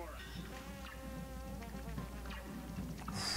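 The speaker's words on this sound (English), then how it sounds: "Those bullet bees, man!" Buzzing swarm of bullet bees in the video game Cuphead, a steady insect-like drone running the whole time over busy game music and effects.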